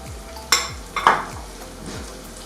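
Onions hitting melted butter in a pan give a soft sizzle under a few sharp scraping stirs of a utensil, close and moderately loud, with no talking.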